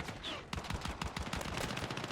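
Rapid pistol gunshots in Battlefield 6 crack out in a quick, uneven series, close and sharp, with dull thuds underneath.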